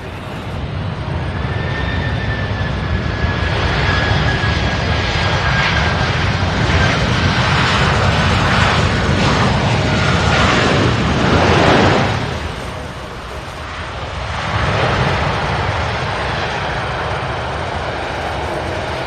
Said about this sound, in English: We are already seeing the first batch of flights lining up.